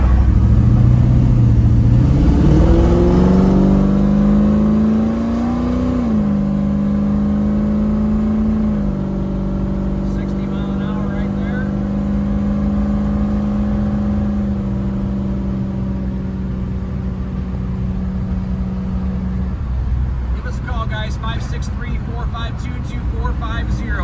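A 1957 Chevy Bel Air resto-mod accelerates hard through the gears, its engine note rising in pitch, dropping at each shift and climbing again, loud and close, before it settles into a steady cruise and fades to road noise.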